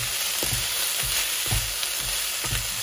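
Nasi goreng with kecap manis sizzles steadily in a frying pan, broad hiss under repeated low scraping strokes of a spatula stirring the rice roughly every half second, close and fairly loud with no voices.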